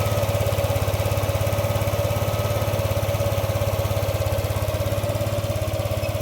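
A Yamaha Aerox 155 V1 scooter engine idles too high after a throttle body actuator reset, holding a steady, close, even buzzing putter with a fast, constant pulse throughout.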